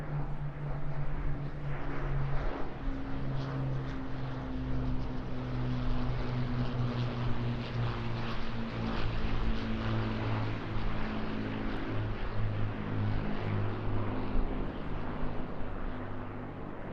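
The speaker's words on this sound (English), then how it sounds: "let us welcome, for all the right reasons, lest we forget, the Battle of Britain Memorial Flight" Battle of Britain Memorial Flight Spitfires making a flypast at the Eastbourne International Airshow, a continuous droning piston-engine roar with steady harmonic hum that swells gently and holds loud throughout, with no voices.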